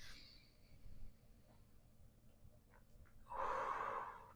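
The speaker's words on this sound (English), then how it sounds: "One more deep breath." Slow, audible breathing during a yoga session in a quiet room, with soft inhales and a louder, airy exhale near the end.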